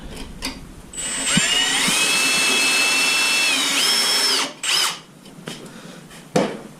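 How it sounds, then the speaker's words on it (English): A power drill whines loudly for several seconds driving a screw into wood, pitch steady then dipping as it drives in, followed by brief clicks and a short second burst. "That way when you drill it,"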